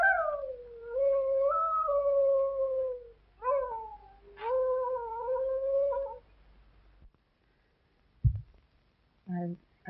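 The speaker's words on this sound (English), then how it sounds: "I wish you'd stop that awful howling." A dog howls in long, wavering, rising-and-falling tones, three extended howls in a row, fairly close and clear, followed by a short pause and a couple of brief yelps or whimpers, with no talking over it.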